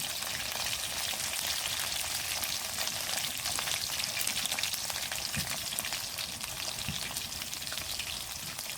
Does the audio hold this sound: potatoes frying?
yes